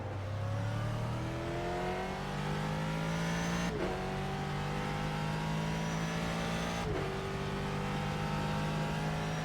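A Ford GT race car in the iRacing video game at the 24 hours of Le Mans screams through the gears, its engine and exhaust rising in pitch over and over, with sharp upshifts near four and seven seconds.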